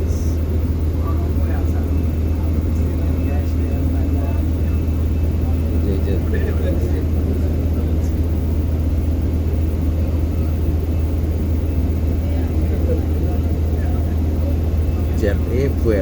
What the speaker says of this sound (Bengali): সৌদি এয়ারলাইন্সে যাওয়ার পূর্ব মুহূর্তে তেল নিচ্ছেন